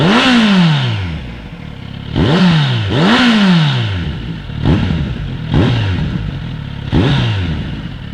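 A Kawasaki Z900RS motorcycle's exhaust is revved repeatedly up close, with five or six loud, sharp blips that each rise and fall quickly over a rumbling idle, with no talking.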